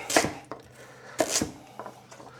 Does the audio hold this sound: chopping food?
yes